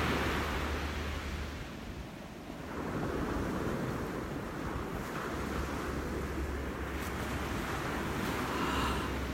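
Surf washing onto a beach at sunrise, a steady broad roar of breaking waves mixed with wind buffeting the microphone, continuous and fairly loud with no talking.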